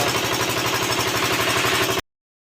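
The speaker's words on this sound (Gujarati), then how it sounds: "આ ચાલુ કરેલું હે મશીન, ચાલુ કરે એટલે ખબર પડે કેટલું પાણી નીકળે" A water-pumping machine's steady, loud engine hum with a regular low throb runs for two seconds, then cuts off abruptly into silence.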